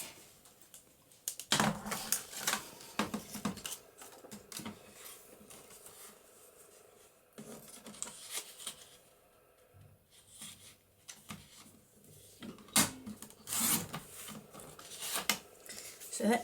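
Paper being cut down with scissors for a papercraft envelope pocket, a series of close crisp snips and rustling handling noises in irregular bursts, with brief quiet pauses between.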